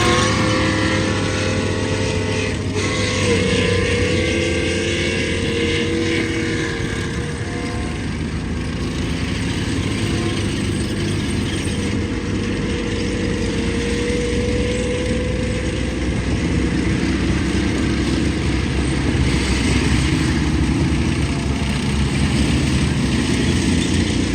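Six Chieftain tanks drive round an arena at a vehicle show, their engines producing a steady loud, droning roar with track clatter that holds throughout without pause.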